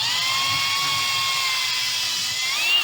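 Power drill boring into a piece of timber, a loud, steady high-pitched whine held for nearly three seconds before rising and cutting off at the end.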